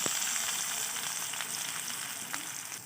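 Chopped onion sizzles as it fries in hot oil in a wok for mixed fried rice, a steady close crackle and hiss with small popping spatters throughout.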